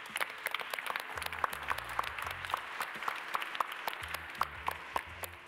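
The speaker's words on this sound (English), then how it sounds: "why don't we give a huge round of applause to the audiovisual team" Scattered, moderately quiet applause from a conference audience thanking the audiovisual team, uneven claps spread across the room with a low organ-like musical tone underneath.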